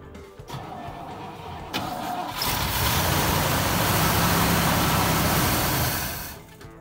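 A 1963 Pontiac Bonneville engine cranking after gasoline is poured down the carburetor, a rough starter churn that swells into a steady loud rumble up close before easing off.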